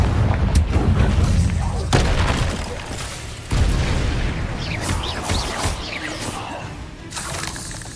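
A Confringo fire spell bursts in Hogwarts Legacy amid a dense, loud barrage of booming impacts and crashing debris, with repeated heavy blasts layered over rumbling combat noise.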